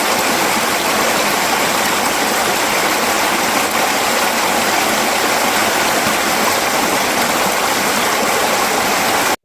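Creek water rushes and churns as it flows under big rocks, a close, steady broadband roar with no pauses and no voices.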